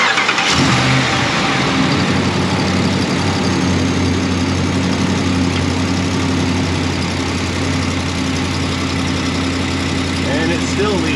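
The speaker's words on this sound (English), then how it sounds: "Restarting the engine." A car engine cranks and fires after an exhaust bolt repair, then settles into a loud, steady idle with a continuous low hum that runs to the end.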